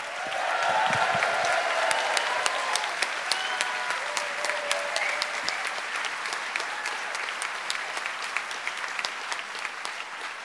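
Dense applause from a large audience at a political rally opening the Marxism 2016 event, a steady wash of clapping that holds evenly loud for the full stretch without talk.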